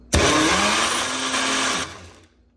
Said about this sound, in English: So let's get it blended up. All right, guys, we have our blender top on